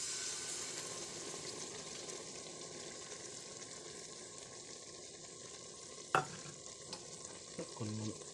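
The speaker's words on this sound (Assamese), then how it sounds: "এতিয়া পানীত তিয়াই থোৱা মছলাখিনি দি দিছোঁ" Soaked spices tipped into a hot pan for Assamese chicken curry, sizzling and frying steadily with stirring, a sharp clatter near the end followed by a few light knocks.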